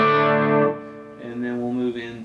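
Electric guitar played through a Hughes and Kettner Grandmeister 36 amp with chorus engaged, picked up by a room mic; a sustained ringing chord fades, then a few shimmering notes follow, moderately loud and alone.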